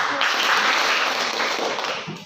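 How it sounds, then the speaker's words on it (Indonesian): Schoolchildren in a classroom applaud together in a dense, close burst of clapping that holds steady for a couple of seconds before tapering off at the end. "Oke, tepuk tangan untuk semua."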